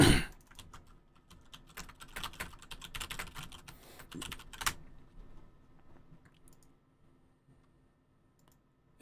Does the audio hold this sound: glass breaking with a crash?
no